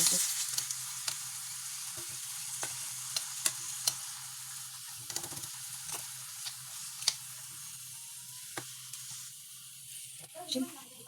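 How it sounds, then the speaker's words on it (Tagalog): A spoon stirring turon filling in a hot pan, with a steady low sizzle broken by repeated sharp scraping taps against the pan, close and fairly quiet. "Haluin na natin kasi luto na yan."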